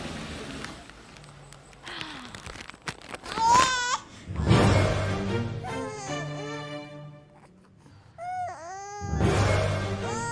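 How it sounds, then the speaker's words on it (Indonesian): A baby cries in the street in wavering, rising and falling wails that come in several bursts with pauses between them, moderately loud against a quiet background. "Masa di tengah jalan begini ada suara bayi sih?"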